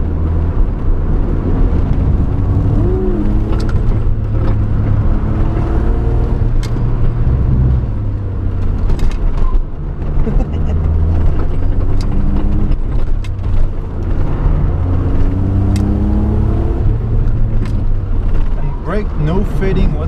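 A 1992 Suzuki Cappuccino drives down Mt. Rokko on a partly wet mountain road, its small engine droning steadily with rising and falling revs from inside the cabin throughout.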